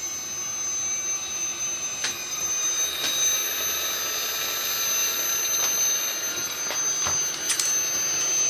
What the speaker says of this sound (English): I can hear the motor spinning.